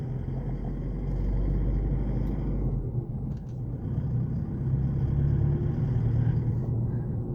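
A 2012 Isuzu KB300 LX D-Teq diesel pickup drives along with a steady low engine rumble and road drone from inside the cab, swelling slightly as it goes, without any speech.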